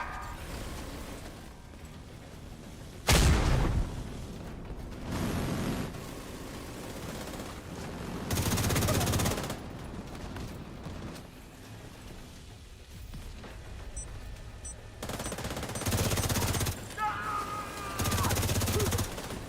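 Gunfire at incoming rockets during a Division 2 raid encounter: a sharp loud blast, then several separate bursts of shooting spaced a few seconds apart over a low mechanical background.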